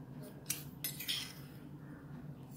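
A spoon scoops sugar for plain tea, making a few faint metallic clinks and light scrapes against a quiet background.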